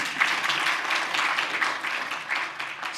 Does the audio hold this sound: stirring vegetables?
no